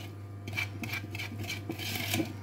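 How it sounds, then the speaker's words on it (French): A flat beater works cake batter of sugar and flour for a Nutella roll, making a soft, steady, rhythmic scraping about three strokes per second, faint and close, with no voices. "Vous voyez ma pâte, elle se mélange très bien avec le fouet plat."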